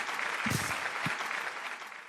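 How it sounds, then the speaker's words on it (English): A short burst of hand-clapping applause, steady and moderately close, with a couple of heavier claps standing out over the dense patter. "so I'm going to applaud you."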